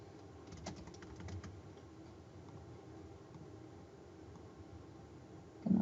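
Keys tapped on a computer keyboard, a quick burst of light clicks early on followed by sparse faint taps over quiet room noise, with a louder knock at the end.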